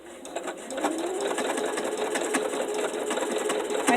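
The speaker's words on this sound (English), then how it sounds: "I'm just going to press the start button and let the machine stitch on its own." A sewing machine stitches a customized label at a medium speed, a steady, continuous mechanical whir with a fast rhythmic stitching pulse, close and fairly loud, rising slightly toward the end.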